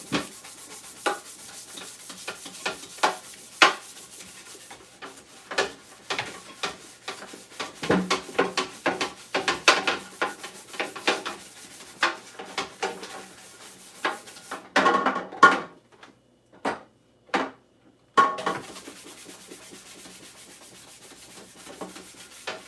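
Dishes being scrubbed with an abrasive scrubber, a busy run of uneven rubbing and scraping strokes with occasional clinks of dishware, up close and fairly loud, with brief pauses between bursts.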